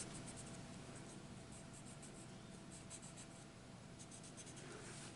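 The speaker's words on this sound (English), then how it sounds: "Create this pattern that I'm drawing at the moment." A pen drawing lines on paper for a squares pattern exercise, heard as a steady, continuous scratch across the whole five seconds, soft and fairly distant under a constant hiss, with no voice.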